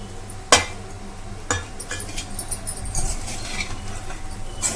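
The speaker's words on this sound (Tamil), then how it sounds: "ஸ்டவ்வை சிம்மில் வச்சுட்டு நல்லா கிளறி விடுங்க" Pepper rice is stirred in a pan on a low stove, a sharp metallic clink of the spoon followed by soft scraping and rustling strokes with another faint knock midway, no voices.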